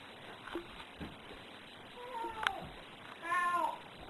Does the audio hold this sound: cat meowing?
yes